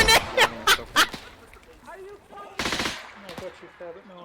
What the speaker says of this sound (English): Others shooting at the tank.